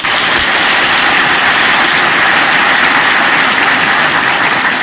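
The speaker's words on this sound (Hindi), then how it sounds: "सुधीर जी के सम्मान में 1000 जोरदार ताली से" An audience gives a loud, dense round of clapping in honour of a guest at a BPSC topper's talk, a continuous roar of hands with no pauses.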